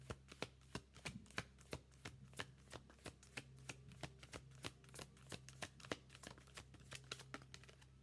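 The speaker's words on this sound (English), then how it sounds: "We're going to shuffle one more time." Rapid riffles of a deck of tarot cards being shuffled, sharp papery bursts repeating steadily and close, with a low steady hum underneath.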